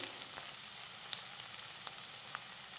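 Kasuri methi, a spoonful of dried fenugreek leaves, hitting a hot cashew curry masala, giving a soft steady sizzle with a few faint crackles and pops, no voices.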